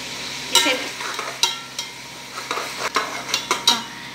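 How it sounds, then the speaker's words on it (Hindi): Chicken pieces frying in hot oil with garlic and ginger paste for a shahi chicken qorma, a soft steady sizzle broken by sharp scraping clinks of a spoon stirring the pan at irregular intervals. "ये चिकन रेड रहता है तब तक हमें जो है इस तेल में इसको कलर चेंज करने के लिए भूनते रहना चाहिए।"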